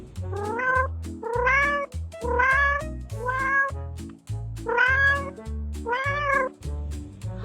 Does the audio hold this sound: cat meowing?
yes